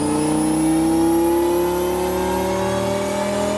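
A Dodge Viper's 8-liter V10 revs steadily upward on a dyno while running rich, its loud, continuous engine tone climbing in pitch throughout.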